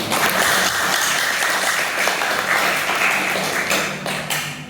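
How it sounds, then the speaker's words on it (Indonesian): Students applaud in a classroom, a dense, even wash of clapping that holds steady and then tapers off near the end. "Tepuk tangan untuk Naswi."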